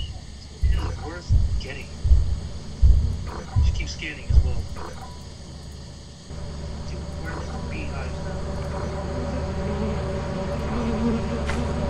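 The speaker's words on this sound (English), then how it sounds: "did the bees find their way back to the hive?" Circuit bees in the video game Lethal Company produce a steady, dense buzz that swells in and holds for the second half, after a stretch of rhythmic voice-like bursts over a low hum.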